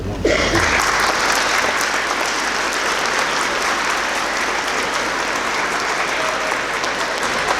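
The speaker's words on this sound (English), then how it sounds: "So give them a round of applause." Audience at a Veterans Day program applauds standing veterans, a loud, dense wall of clapping that swells in at once and holds steady for several seconds without speech.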